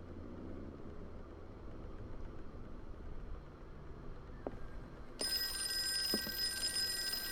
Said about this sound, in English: why did that phone scare me?